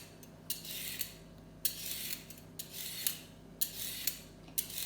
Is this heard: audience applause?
no